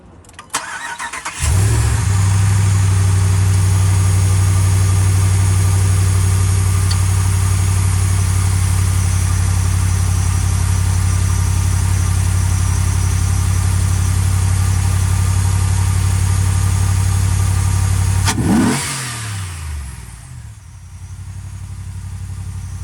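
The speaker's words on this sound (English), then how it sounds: "let's turn on the truck and see how it sounds like from the front." A 2019 RAM 1500 pickup fitted with a K&N cold air intake cranks to life and settles into a steady, loud, throaty idle heard up close for about sixteen seconds, then shuts off abruptly and goes quiet.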